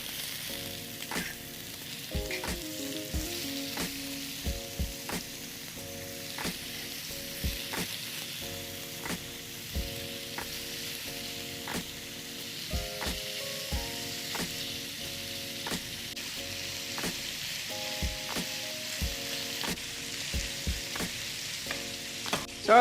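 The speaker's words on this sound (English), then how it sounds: "satay straight into hot pan" Steady sizzling of chicken satay frying over high heat in an oiled hot pan, crackling continuously with occasional sharper pops, while soft background music plays.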